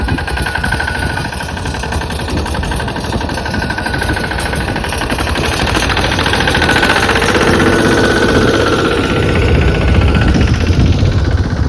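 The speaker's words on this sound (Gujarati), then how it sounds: "ટ્રેક્ટર પણ આવી ગયું છે" A tractor engine runs steadily close by, a rough, continuous mechanical drone with a rattling knock that never lets up and no voices over it.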